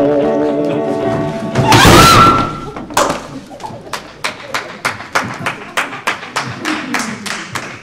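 Hand claps from the audience at a stage comedy performance, a burst of noise followed by a run of sharp, evenly spaced individual claps, fairly near and moderately loud.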